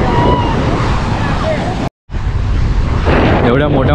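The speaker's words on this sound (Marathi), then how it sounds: "एवढ्या मोठ्या मोठ्या लाटा आहेत" Big ocean waves roll and crash close by off the Goa coast, mixed with heavy wind buffeting the microphone and a brief cut partway through, while voices call out over the roar.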